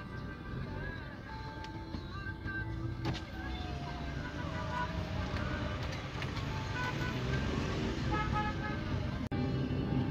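Cars passing and idling in heavy traffic on a rainy avenue in Boa Viagem, a steady broad roadway rumble with a distant horn toot and faint engine whine, continuous and moderately loud.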